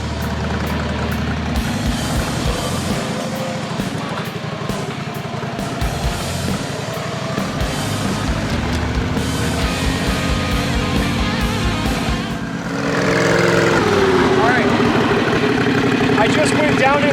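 A vehicle tows a custom off-road trailer with brakes slowly down an incline, its engine rumbling and idling low throughout, rising into a louder, rougher rumble near the end, while someone talks over it.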